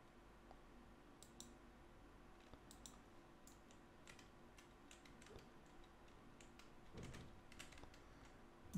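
Quiet, steady clicking of keys on a computer keyboard, irregular taps spread across the whole stretch over a low background hiss.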